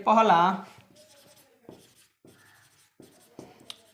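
Pen writing on paper while working through a class 10 math exercise, soft scratchy strokes in short bursts with pauses, following a brief stretch of speech at the start.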